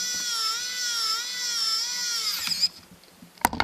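A small automatic micro screwdriver drives a screw back in with a steady high-pitched motor whine lasting a couple of seconds, then cuts off, followed by a brief click and handling noise.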